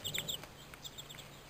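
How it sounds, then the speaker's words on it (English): Chickens cluck in a quick, faint burst of several short, bright calls, heard alone with no talking. "I said chickens!"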